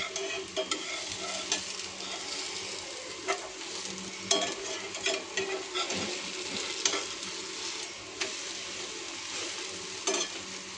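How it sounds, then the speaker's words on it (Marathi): Aloo paratha sizzling as it roasts on a pan, a soft, continuous fry crackle punctuated by occasional scraping and stirring clatters. "तर आपला पराठा हे खालून शेकून झाला आहे."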